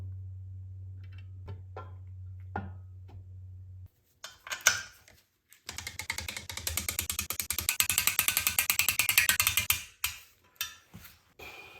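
Torque wrench tightening the bed plate bolts on an N20 engine during a rebuild, with a few isolated clicks first, then a long run of rapid ratcheting strokes in bursts that end in sharp clicks, close and alone.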